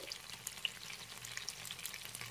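Chicken kathi kabab frying in a covered pan on a gas stove, a soft, steady sizzle with faint crackles and stirring, close and quiet.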